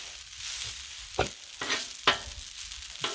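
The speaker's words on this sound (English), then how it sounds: "So I'm just getting a little bit of a sear" Shrimp sear on a hot Blackstone griddle with a steady sizzle, broken by several sharp scraping strokes of a spatula turning and stirring them, close and fairly loud.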